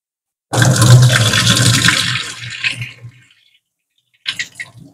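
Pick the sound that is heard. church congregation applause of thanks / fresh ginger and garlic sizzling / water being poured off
water being poured off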